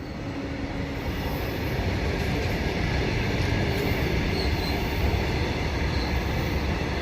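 A train rolls through Urkura station in a continuous loud wash of rail noise, wheels rumbling steadily on the track with a faint squeal, close by for the whole stretch and no talking.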